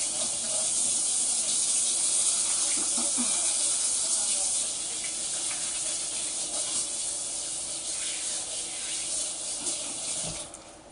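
A kitchen tap runs steadily for hand washing, a continuous close hiss of water that eases off near the end.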